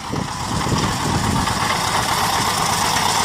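A farm tractor engine runs steadily with a sickle bar mower attached, making a loud, close, continuous droning rumble with no pauses.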